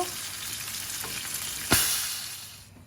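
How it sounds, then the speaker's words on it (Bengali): Pomfret (rupchanda) fish sizzles steadily in hot oil in a pan, a continuous frying hiss with a brief sharper burst near the end as the fry fades slightly. "আমার মাছ ভাজিটা হয়ে গেছে, এখন আমি নামিয়ে নেব।"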